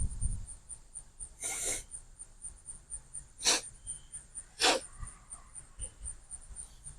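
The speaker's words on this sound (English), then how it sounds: "Hold on, I gotta like blow my nose." Three short, forceful nose blows up close, spaced a second or more apart, over faint background hiss.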